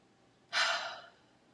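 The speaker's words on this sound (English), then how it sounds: "And we can breathe together." A single deep exhaled breath, a soft airy sigh lasting about half a second, heard up close in a quiet room during a calm guided breathing moment.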